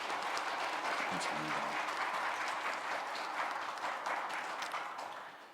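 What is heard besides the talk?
applause welcoming a new church staff member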